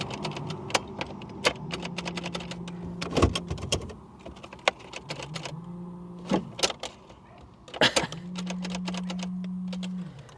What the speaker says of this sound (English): But the fuel pump is running.